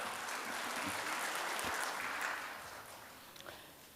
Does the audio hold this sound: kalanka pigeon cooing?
no